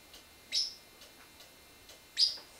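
Outside, a crow gives two short, sharp calls about two seconds apart, faint and somewhat distant, over a quiet indoor background.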